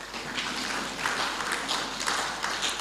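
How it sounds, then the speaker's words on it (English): Delegates applaud at the closing ceremony of a regional health ministers' conference, a continuous dense patter of many hands, moderately loud and even throughout. "Clap for us."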